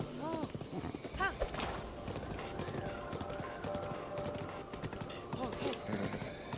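A horse outdoors clip-clops with irregular hoof strikes and gives several neighs and whinnies close by, while people chatter and laugh nearby.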